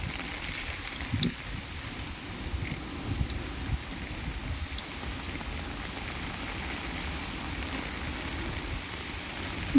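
Light rain after a storm patters steadily on surfaces, an even hiss with occasional sharper drips and a faint breeze, continuous and without talk.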